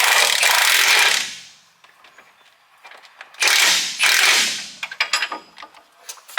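An impact wrench works on a sway bar link bolt on a 2005 Cummins truck, hammering in two loud, rattling bursts separated by a pause, followed by smaller clanks and taps of tools up close.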